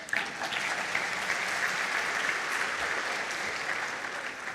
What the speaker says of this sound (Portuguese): um aplauso para esse hominho